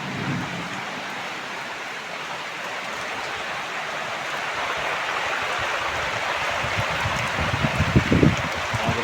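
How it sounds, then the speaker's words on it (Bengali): Heavy rain falls in an even, steady wash of hissing water, with a few brief louder knocks and splashes close by near the end. "আজ জোরে বৃষ্টি হচ্ছে তো"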